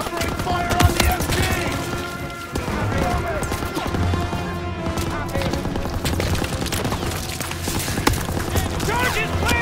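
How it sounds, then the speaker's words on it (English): Dense battlefield din from a Call of Duty WW2 hill assault, with sustained machine gun covering fire and scattered gunshots crackling steadily throughout, under constant shouted soldier voices. "Covering fire on the MG!"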